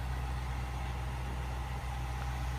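A 2017 Mercedes-Benz AMG G63 SUV engine idles in a steady, low, continuous rumble, close and even throughout with no talk.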